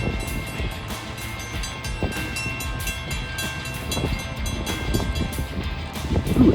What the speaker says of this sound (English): Bell sounds awesome, doesn't it?